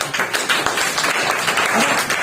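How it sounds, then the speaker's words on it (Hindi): Congregation at a Sunday church service clapping together in a steady, dense wash of applause, fairly close and sustained for a couple of seconds with a faint voice underneath. "ताली बजाओ से"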